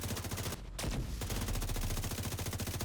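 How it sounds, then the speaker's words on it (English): Rapid automatic gunfire rattles in The Division 2 during a Dark Zone fight, a loud continuous stream of shots with a brief gap, then resuming steadily without any voices. "Shots fired! Shots fired!"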